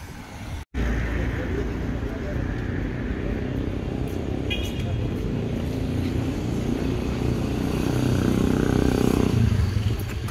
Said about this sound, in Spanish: el sonido que producen las motocicletas, las motos